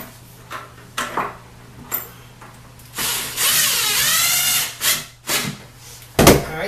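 A power drill drives screws through a toilet flange and spacer: a few short whirring bursts, then one sustained run of several seconds, ending with a final sharp burst, close by with no talk.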